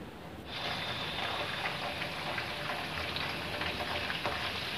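Dry fruits frying in hot oil for a sweet zarda rice dish, a dense, steady hiss of bubbling oil that rises abruptly after a brief quiet start and then holds evenly, close and with no talk.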